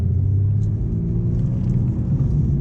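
Porsche 911 rolling through a U-turn on a slalom course, a steady low engine rumble heard from inside the car, even and unbroken with no sharp revving.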